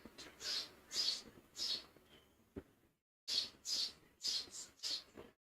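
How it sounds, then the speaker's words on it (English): Birds calling outdoors during an LSU vs Texas A&M college baseball game: a faint series of repeated high chirps in two groups split by a brief gap. "And the Birds are vocal today."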